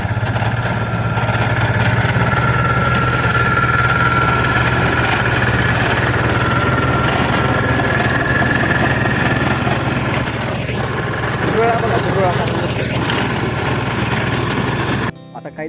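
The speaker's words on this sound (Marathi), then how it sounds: "ट्रॅक्टर चालू होता रोटरायला" A small tractor runs a rotavator in a field. Its engine drones loud, close and steady with a low hum and rattling vibration, then cuts off abruptly at the very end.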